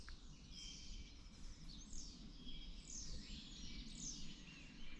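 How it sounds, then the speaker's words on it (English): Winter dawn chorus of starlings and song thrush: a continuous layer of chattering, whistling calls and sweeping chirps from many birds, fairly distant and soft over steady background noise. "Hear the chorus? That's pretty cool, huh? There are starlings."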